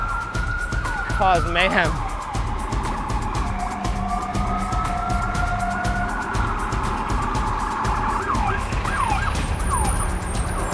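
An ambulance siren wails over steady road noise in New York traffic, heard while rollerblading, rising and falling, with a quick yelping burst early and another later; a voice speaks briefly.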